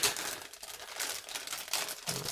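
Quiet, close crinkling of thin plastic, a few brief rustling bursts as a small bag of ZiL-157K scale model kit parts is handled and opened.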